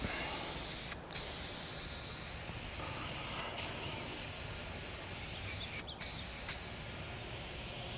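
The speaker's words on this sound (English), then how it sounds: "the cans do not like to be sprayed sideways like this" Three short bursts of aerosol spray paint hiss from a can held sideways over a car hood, about a second each, spaced a couple of seconds apart over a steady background of insect-like hiss.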